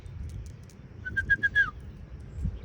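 Pigeons give a short run of about five quick cooing notes close by, standing out briefly over a low background rumble.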